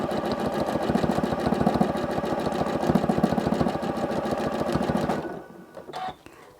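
A sewing machine stitches free-motion quilting, its needle chattering in a fast, steady loud rhythm up close for about five seconds before stopping, followed by a faint clunk.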